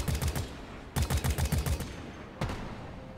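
Gunfire in a video game, aimed up at a fossil stuck on a cave ceiling: rapid automatic bursts, a long rattling volley, a second burst, then a single sharp shot, loud and close.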